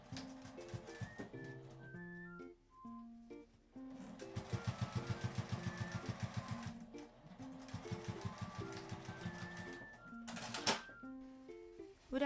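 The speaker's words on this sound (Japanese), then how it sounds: "端の方まで移動させて返し口を縫い閉じます" A sewing machine closes the turning opening of a small tri-fold cashless wallet with quiet, stuttering stitching runs that stop and start, over soft background music.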